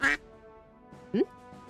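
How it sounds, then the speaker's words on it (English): Two short quacks from a cartoon duck in a Greek-myth-themed duck video game, the first sharp and high, the second a lower, rising nasal honk after a pause, over a faint musical background. "Below, a duck was pecking on his foot."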